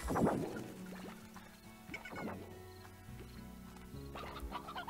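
Chickens cluck in the video game Slime Rancher, a few close, soft clucks and squawks scattered over a low game-music background.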